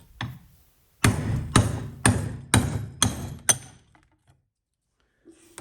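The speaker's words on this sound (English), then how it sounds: "grab yourself a trusty hammer, and we're just going to go ahead and knock this down" Six sharp metallic hammer blows strike in a steady rhythm, close and loud, knocking the plug out of a garbage disposal, followed by a few faint clinks and a soft thud.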